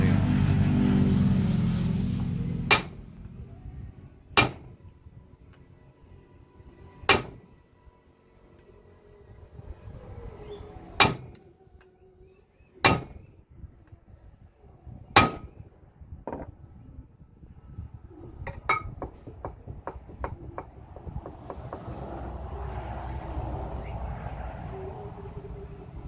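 A hammer striking a socket used as a makeshift press on a bench with some give, giving sharp, loud metallic blows spaced a few seconds apart, then a quick run of lighter taps, with faint background rumble.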